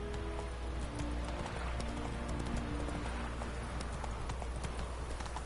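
Roach, a horse in the video game The Witcher 3, gallops in steady, continuous clip-clopping hoofbeats over a constant low game-ambience rumble, with no voices.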